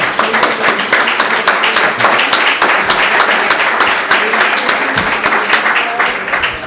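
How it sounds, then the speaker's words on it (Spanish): Steady audience applause fills the room, dense overlapping claps sustained throughout with a faint murmur of voices beneath. "Yo creo que se merece una ovación, ¿no?"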